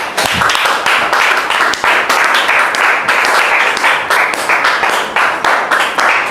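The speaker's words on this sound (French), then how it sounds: "Recevons ici maintenant M. Anderson Kwadjo sous vos applaudissements, s'il vous plaît." A studio audience on a French-language talk show applauds to welcome a guest, with dense, steady clapping that stays loud and close for the whole stretch without letting up.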